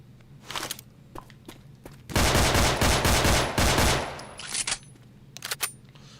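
Rapid gunfire in Left 4 Dead 2, a dense burst of repeated loud shots lasting about two seconds, framed by scattered single shots, clicks and thuds before and after.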